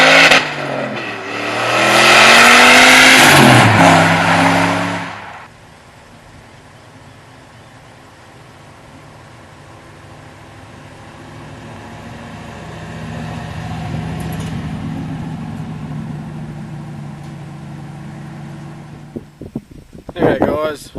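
A turbocharged LS1-powered one-tonne truck roars loudly under hard acceleration, the engine rising through the revs, then settles into a steady lower cruising drone, with someone talking over it.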